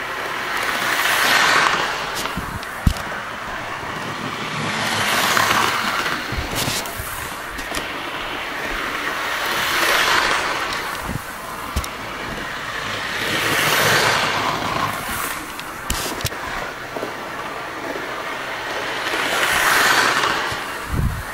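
A Bachmann BR Jubilee Class 'Drake' model locomotive runs on track, a soft motor whir that swells and fades in regular waves as it passes by, with small clicks over rail joints.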